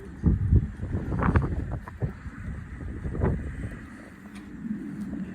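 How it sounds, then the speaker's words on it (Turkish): Strong wind in a garden with pigeons buffets the microphone in uneven gusts, with a low rumbling roar that swells and eases throughout. "Çok rüzgar var ama."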